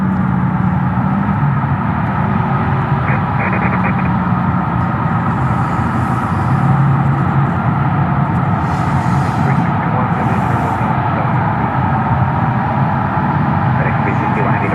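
An airplane approaches Memphis International Airport amid FedEx traffic, a continuous loud jet roar and rumble filling the whole stretch without letup.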